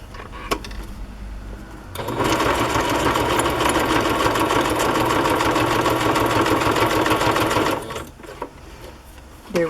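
A sewing machine runs cream thread through a paper tag, starting after a quiet moment and whirring steadily at a fast, even stitch rhythm for about six seconds before stopping.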